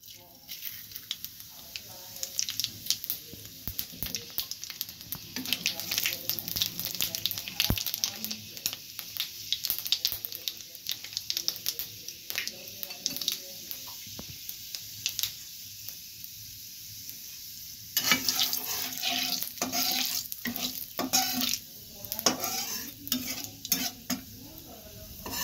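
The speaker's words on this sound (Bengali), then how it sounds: "তেলটা গরম হলে দিয়ে দেব পাঁচফোড়ন।" Panch phoron spices hit hot oil in a wok for a Bengali rohu fish curry, giving quiet, crackly sizzling and frying with scraping stirs. The sizzle flares louder near the end.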